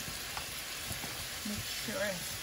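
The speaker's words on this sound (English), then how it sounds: "Make sure you fry it, because if you don't fry it, they'll stick together." Potstickers frying in a pan give a steady, soft crackling sizzle with small pops, accompanied by brief voices in the background.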